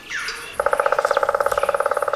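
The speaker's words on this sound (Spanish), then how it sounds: "es el tamborileo de aquel picamaderos negro" Rapid, even drumming of a black woodpecker striking a beech trunk in a mountain forest, a sustained roll of closely spaced knocks that starts abruptly after a moment of birdsong and carries on steadily, fairly loud and close.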